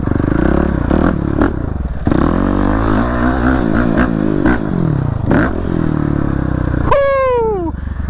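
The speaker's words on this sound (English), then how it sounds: "Tyler's ripping around his 450 RL, a dual sport." A 450 RL dual sport motorcycle being ridden hard, its engine droning and revving close by with rattling and scraping, ending in a sharp rising rev.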